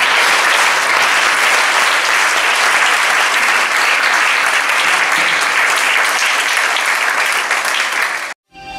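A church congregation applauds in sustained, dense clapping that holds steady and loud for about eight seconds, then cuts off abruptly.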